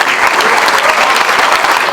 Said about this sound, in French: elle fête son anniversaire, donc on peut encore l'applaudir